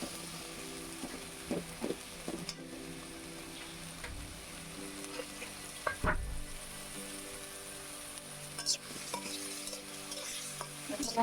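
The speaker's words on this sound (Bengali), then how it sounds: "সয়া সস, ওয়েস্টার সস আর লবণ, ভিনেগার সব কিছু দিয়ে আমি চিকেনটা মাখিয়ে এখন ভেজে নিচ্ছি।" Chicken marinated in soy sauce, oyster sauce, salt and vinegar frying for chow mein, a steady close sizzle with repeated stirring scrapes and occasional clacks of the utensil against the pan.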